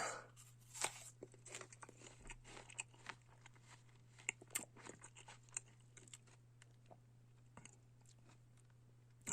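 A juicy early-winter apple with firm flesh is bitten and chewed up close, giving a run of crisp crunching bites and wet chewing sounds over about nine seconds with no talk.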